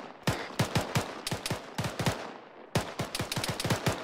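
Sustained gunfire in an Arma military shooter during a cover-fire drill: rapid overlapping rifle shots crack in quick bursts, loud and close, with a short lull before another volley, no talking.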